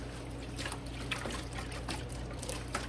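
Water trickles and splashes in a pan as gold concentrates are swirled. The faint, continuous liquid sloshing has small irregular splashes over a low background hum.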